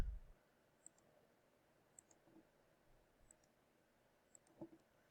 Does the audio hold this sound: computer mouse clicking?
yes